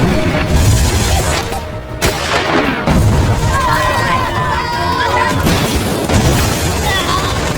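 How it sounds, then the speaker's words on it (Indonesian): Explosions and artillery-like booms as Iranian troops destroy Iraqi tanks with RPG fire in a war film, dense continuous battle noise with bursts and background chatter layered under the din. "meledakkan tank-tank pasukan Irak dengan senjata RPG yang"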